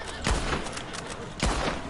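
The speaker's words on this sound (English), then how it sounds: "I'm trying not to shoot the same one twice" Two sharp rifle shots crack out in a Red Dead video game, spaced about a second apart over a steady low background, fairly close and punchy.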